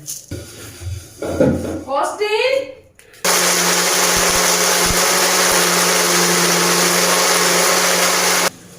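A voice talks briefly, then a kitchen mixer grinder starts up grinding black pepper, whirring loudly and steadily for about five seconds before stopping.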